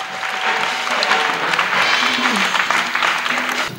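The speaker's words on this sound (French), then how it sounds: "Yes, clap for Jesus Christ." Congregation clapping for Jesus Christ at an evening evangelism service, loud dense applause from a crowd filling the room, with voices and shouts mixed in throughout.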